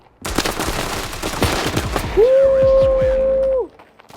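Rapid bursts of gunfire in an online shooter video game crackle in quick succession over about two seconds, then a steady in-game tone sounds; loud and close.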